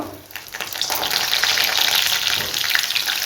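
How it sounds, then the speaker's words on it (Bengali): Potatoes frying in hot oil for a vegetarian aloo dum, giving a steady, close hiss of bubbling sizzle with small crackles throughout and no talking. "আমার তেলটা এবার গরম হয়ে গেছে এবার আমি একে একে আলুগুলো সব ভেজে নেব"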